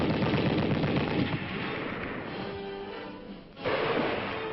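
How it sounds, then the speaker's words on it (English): Dense infantry weapons fire at a military training range, M1 rifles among them, a loud continuous clatter of overlapping shots that eases for a moment, then bursts back at full strength. "In addition to the M1 rifle, we learned to fire other infantry weapons."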